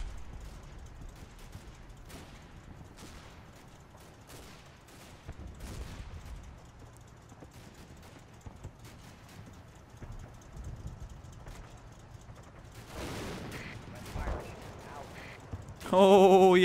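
Distant machine-gun fire in a WWII Normandy battle game, faint scattered bursts and thumps under a low rumbling battlefield background, with a louder clatter near the end.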